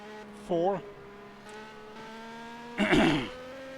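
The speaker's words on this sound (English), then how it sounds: "On board now with a new race leader, Mikael Janak, in the Ferrari 312T." Ferrari 312T Formula 1 car heard onboard during the 1979 Buenos Aires round: a faint, steady engine drone holding one pitch, with short bursts of voice over it.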